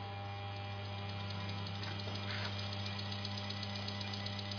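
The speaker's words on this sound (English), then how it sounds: "We'll start the machine spinning." A Turner Technologies crankshaft balancing machine spins a race car crankshaft, giving a steady close mechanical hum with a constant low drone and faint rising whine, uninterrupted with no talking.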